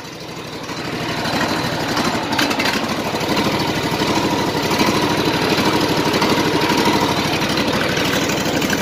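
A small engine fitted with an electric choke and a replacement motor catches and settles into a steady, close idle. Its rough, even chugging holds at a constant level throughout.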